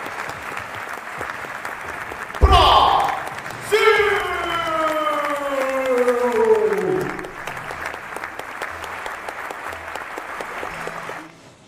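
An esports showmatch crowd claps and applauds in a steady wash, with a loud burst of cheering and a sustained voice rising over it before the clapping continues to the end.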